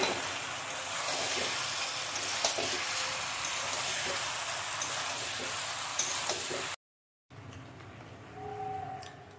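Boiled pasta and fried egg are stirred together in a pan over the stove, with a soft steady sizzle and scraping that continues closely, then a brief cut before quieter frying resumes.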